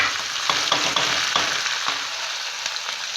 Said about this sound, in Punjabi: ਇਹਦੇ ਵਿੱਚ ਮਸਾਲੇ ਜਿਹੜੇ ਕੱਟੇ ਹੋਏ ਆ ਪਿਆਜ਼ ਹਰੀ ਮਿਰਚ ਉਹ ਪਾਵਾਂਗੇ